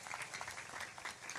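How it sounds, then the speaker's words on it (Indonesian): Applause from an audience at an Islamic religious gathering: a brief, dense burst of many hands clapping, somewhat distant and soft, continuous without a break. "Tepuk tangan untuk kekompakan semuanya."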